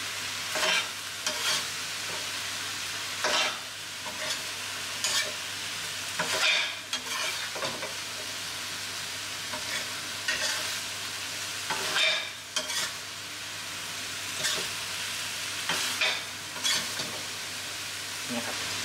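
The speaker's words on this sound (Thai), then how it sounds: "ผัดให้เข้ากันเลยครับถั่วงอก" Bean sprouts are stir-fried in a hot pan, giving a continuous sizzle with frequent scraping strokes of a spatula at an uneven rhythm and a low steady hum underneath; close, with no talking.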